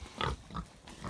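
Pigs grunting in short close bursts, three or four snorty oinks spaced unevenly over about a second.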